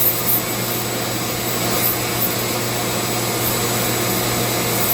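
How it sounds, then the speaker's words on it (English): A Dremel 80-grit sander grinds into wood while carving a friendship staff, giving a continuous, loud, close abrasive whir with a steady motor hum and no pauses. "This sander I'm using is an 80 grit, and it's a DREMEL sander."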